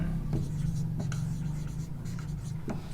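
Pen writing by hand, likely on paper or a board during a Class 12 maths geometry lesson, a steady close scratching with brief pauses between strokes and no talk.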